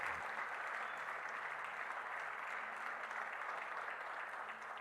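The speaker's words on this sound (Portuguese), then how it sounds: "Você pode aplaudir a Deus pela palavra dele?" A church congregation applauds during a sermon. The clapping is steady and even, heard from a moderate distance, and fills the whole stretch at a constant, fairly soft level.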